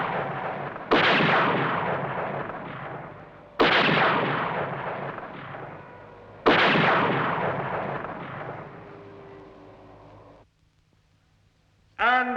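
Gunfire from a TV show, three loud sharp blasts spaced a few seconds apart, each ringing and fading slowly, aimed at a flying machine, ending with a short quiet gap and the start of another burst.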